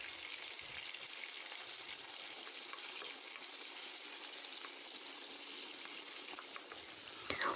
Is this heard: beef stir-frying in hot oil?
yes